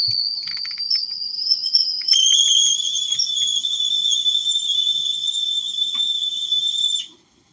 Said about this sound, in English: oh, whistling kettle